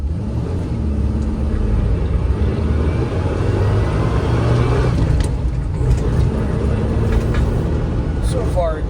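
1984 Ford Bronco II engine idling after long disuse, a steady low rumbling drone throughout with someone talking over it.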